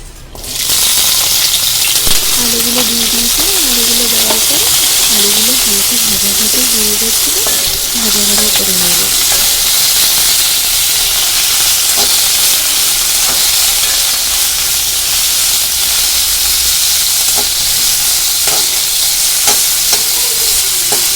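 Potatoes stir-frying in hot oil with bay leaf, nigella seeds and chili sizzle loudly and continuously up close, with frequent stirring clinks and scrapes throughout.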